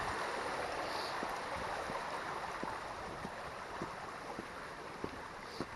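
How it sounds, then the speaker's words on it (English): Fast-flowing water beside an uphill hiking trail on Madeira, a steady broad rush close by, alone without talk and with faint scattered ticks. "as you can see by how fast this water is flowing."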